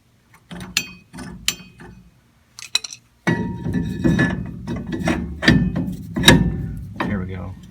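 A ratchet clicks in short bursts while tightening the rear parking brake shoe adjustment on a truck, sharp metallic pawl ticks and clinks repeating close by, separated by brief pauses.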